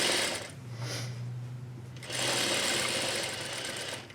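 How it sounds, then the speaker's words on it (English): A sewing machine runs steadily at close range, stitching a half-inch seam around the edge of a zippered pillow, with a brief pause and shift in pitch midway before the motor whirs on continuously. "I like to sew 1/2-inch seams, so that's what I'm doing here"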